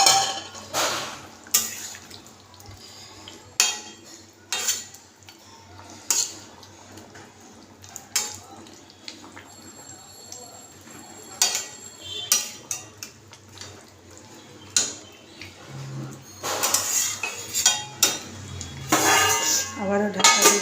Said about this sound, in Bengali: ঢাকাটা খুলে নিলাম, এবার ভেজে রাখা মাছগুলো দিয়ে দিচ্ছি।